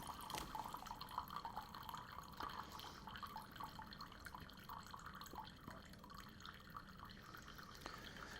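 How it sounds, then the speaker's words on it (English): Water draining from a syringe in a physics demonstration: a quiet, continuous trickle with faint drips, steady for the whole stretch and heard alone at low level. "that water is going to drain out of the syringe"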